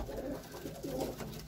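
A Tira pigeon, a high-flying breed, gives soft, throaty coos, a couple of rolling calls close by over a low background hum.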